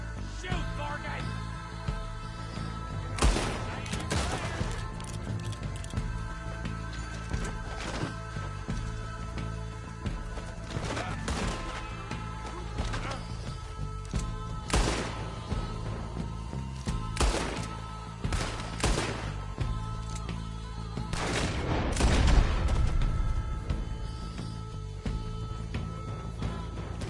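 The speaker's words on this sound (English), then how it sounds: "Shoot, Vargate!" Gunfire in a Red Dead Redemption 2 shootout: sharp shots at irregular intervals over a steady low game ambience, with a denser cluster of bursts near the end.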